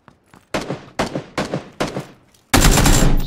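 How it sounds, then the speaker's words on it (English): Bursts of gunfire in the battle royale game Battlegrounds: a couple of faint distant pops, then four loud, evenly spaced shots, followed by a sustained heavy burst of automatic fire at close range. "Someone's shooting at me."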